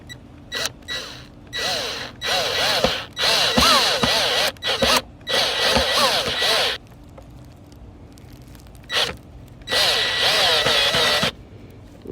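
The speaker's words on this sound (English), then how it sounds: "And get to freaking drilling." A power drill whirs in repeated bursts while building a DIY manual box pad, several short runs and longer whining pulls with rising and falling pitch, separated by pauses and faint clicks.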